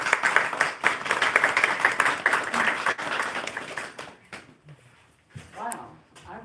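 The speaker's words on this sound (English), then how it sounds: "So you can give her a round of applause." A bookstore audience at a book presentation breaks into dense, loud applause that holds for about four seconds before tapering off, followed by a brief voice.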